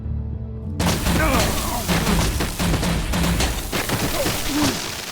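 Gunfire and booming blasts in the Batman: The Enemy Within video game, a dense burst of shots and impacts that starts suddenly and carries on beneath shouting voices.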